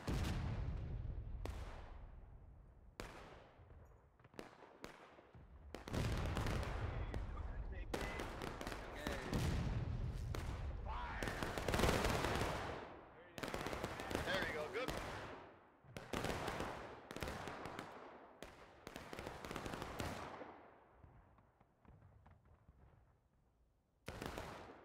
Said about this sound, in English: So right now it's a long distance gunfight.